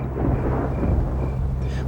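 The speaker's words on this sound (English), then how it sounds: "Just then there was a deep rumble of thunder." Deep rumble of thunder rolling steadily throughout, low and heavy with a faint rain-like hiss, from the 1995 Theodore Tugboat episode set around the Northern Lights.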